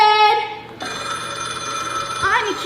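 A telephone bell rings loudly in an old radio comedy, its steady ringing tone sounding alone with no talk over it.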